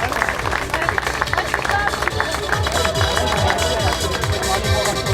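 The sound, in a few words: crowd applause at triathlon award ceremony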